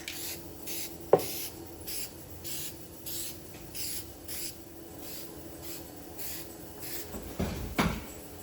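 Spray paint goes onto an old Reed 104 1/2 bench vise in a light first coat as a series of short, evenly spaced hissing bursts from a rattle can. Each burst is close and steady, with a sharp knock near the start and a clunk near the end.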